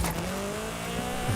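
A level 8 Nissan GTR drives in a racing video game, its engine holding a steady loud drone with a slight tire squeal, and no speech.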